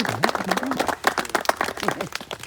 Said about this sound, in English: So a massive round of applause